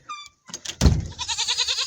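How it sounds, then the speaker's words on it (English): A door being shut inside a garage that houses goats, giving a solid thump with a low rumble, followed by a rapid rattling that fades out, with a goat bleat heard faintly just before. "So we'll close this door."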